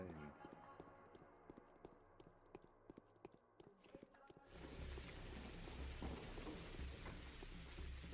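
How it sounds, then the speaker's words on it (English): Heavy rain in the video game Pathologic swells into a dense, steady downpour partway through, following a quieter stretch of footsteps-like clopping and someone talking over it. "The rain sounds nice, at least."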